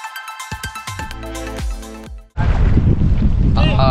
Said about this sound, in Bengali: আন্ডামানে সাইক্লোন অ্যালার্ট রয়েছে, তার জন্য প্রচুর পরিমাণ হাওয়া